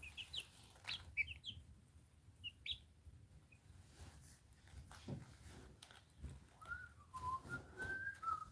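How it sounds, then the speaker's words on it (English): A person whistles short, chirpy bursts to chickens, then later a longer wavering whistle. It is faint and quiet, with soft clucks and light rustling in between. "Sometimes I whistle to these birds to try to make them whistle back."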